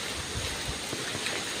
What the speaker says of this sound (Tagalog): Ulan na tagtuyot eh.